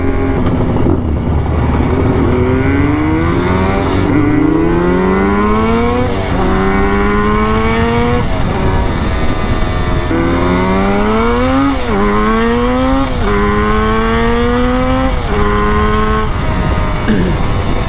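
Yamaha RD350 cafe racer two-stroke motorcycle at about quarter throttle, revving up through repeated rising gear pulls with short dips between shifts, loud and close throughout the ride.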